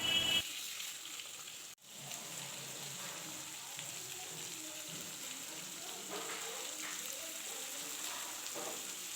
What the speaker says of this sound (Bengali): একে একে সব মাছগুলো দিয়ে দেবো এর ভেতরে, আর একদম মাছটা এপিট ওপিট হালকা করে ভাজা করে নেব।